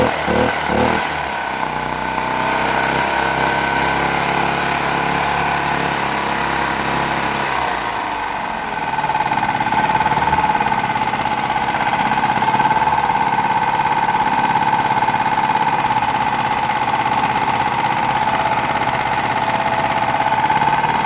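A Predator 212cc engine on a 4375 generator sputters and catches, then roars steadily at a high, over-revved pitch from a faulty governor, loud and close with no talk.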